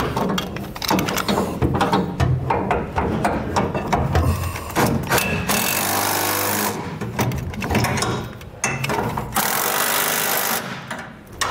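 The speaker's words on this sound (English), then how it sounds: "Then we're gonna tighten this top bracket that's on our" A top bracket bolt for Westin HDX nerf bars with drop steps being tightened on a 2021 Ram 2500: close, rapid ratchet clicking in repeated bursts with short pauses between them.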